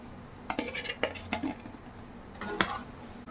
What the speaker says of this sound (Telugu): సో ఆయిల్ మొత్తం ఉంచేసి ఒక ప్లేట్లోకి తీసేసుకుందాం